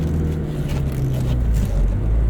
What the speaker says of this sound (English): Hear the whine from those straight cut gears.